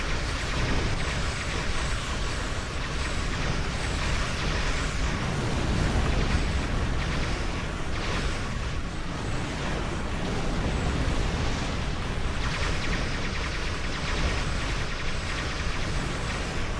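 Starship weapons firing a broadside in the space combat game Star Trek Online, with Vaadwaur polaron energy weapons, heard as a dense, steady roar of overlapping blasts and bursts that holds loud throughout, with no voices.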